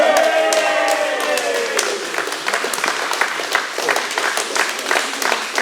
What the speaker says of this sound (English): Joseph, give him a round of applause.